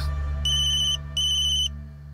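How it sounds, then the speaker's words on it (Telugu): A mobile phone's ringtone sounds loudly in two bright bursts with a short gap between them, over a low steady background hum. "Phone cut చేస్తావేంట్రా Gopi?"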